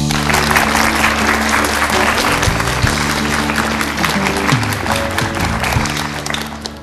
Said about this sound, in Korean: 힘찬 박수로 청해 듣겠습니다